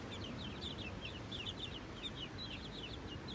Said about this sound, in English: Look at all these crazy chickens.